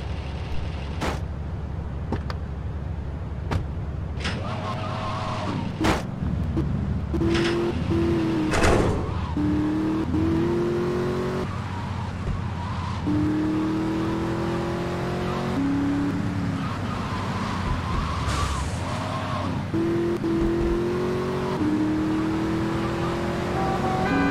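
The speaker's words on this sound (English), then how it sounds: "So we got a faster car than ones we end up finding on the way." Car racing through the streets in GTA Vice City, a continuous engine roar rising and falling in pitch as it shifts and accelerates, with sharp thuds and impacts scattered through the first half.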